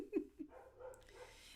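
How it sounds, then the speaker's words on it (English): A dog barks at the mail carrier, two or three short, soft yips and barks near the start, followed by quieter whining and breathing sounds, faint overall. "So I'm just going to let him bark."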